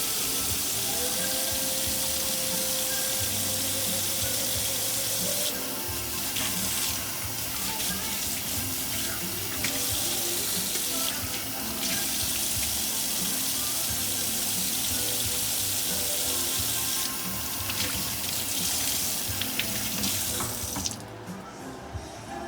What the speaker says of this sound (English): Just have to wash my hands so I can pick up.